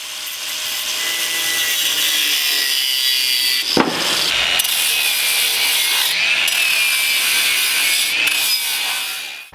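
A Harbor Freight part has its back end cut off for a VW rescue trailer build: a loud, continuous grinding, sawing whine with shifting pitch, briefly interrupted by a sharp knock and short pauses near the end.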